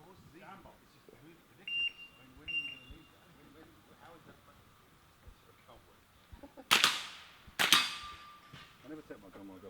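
Two sharp, loud gunshots ring out close together at an outdoor shooting range, following a stretch of quieter background noise with faint beeps and distant activity.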